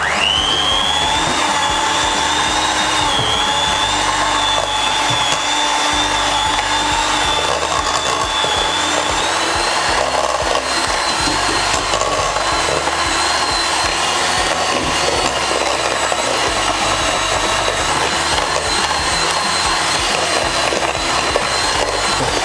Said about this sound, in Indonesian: Kemudian kita mixer kembali dengan kecepatan tinggi.